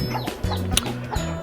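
Bangkok hens cluck in a coop, several short rhythmic bursts of close, loud clucking in quick succession.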